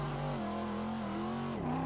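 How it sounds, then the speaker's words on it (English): Race car engine in a drifting video game, with the shifter's automatic downshift blip; a sustained engine drone holds then dips and rises briefly near the end, with no talking. "the auto blip from my MOZA shifter is actually the auto downshift blip"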